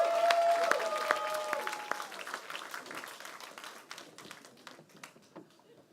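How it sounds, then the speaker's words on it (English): A crowd at a business pitch event gives a round of applause that starts strong with some sharp claps and fades gradually over several seconds, with no speech over it. "let's just give a round of applause to Barclays in Texas for such a wonderful event"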